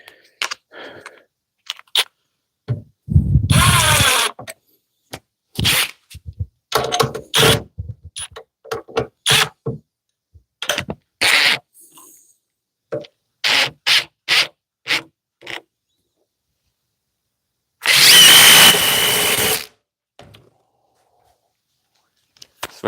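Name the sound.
DeWalt DCF860 impact driver driving small screws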